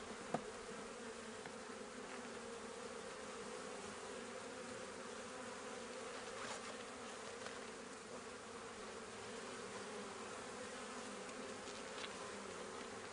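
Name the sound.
honey bees buzzing around nuc hive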